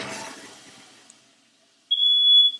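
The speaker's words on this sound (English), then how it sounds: "Can you get the smoke detector?" A shrill, steady smoke detector alarm tone sounds loudly for about a second during pie baking, after some faint rustling and a quiet pause.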